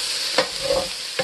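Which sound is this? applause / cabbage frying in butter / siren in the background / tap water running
cabbage frying in butter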